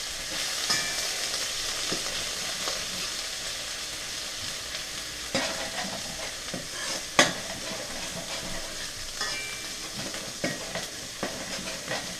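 Quinoa fried rice ingredients stir-fried in a hot pan, sizzling and crackling steadily throughout with occasional sharper clatters from stirring.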